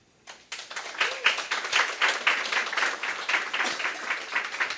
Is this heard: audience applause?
yes